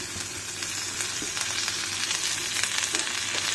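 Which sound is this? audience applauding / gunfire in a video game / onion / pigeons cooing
onion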